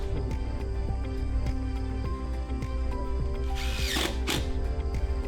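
A power drill drives screws into the trim of a hunting blind, its motor whirring steadily with a short sharp burst of higher grinding near the end, close and continuous throughout.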